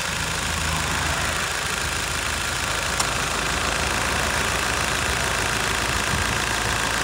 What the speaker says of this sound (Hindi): मैं आपको अभी इंजन की एक बार आइडल साउंड सुनाता हूँ कि आइडल साउंड कैसी आ रही है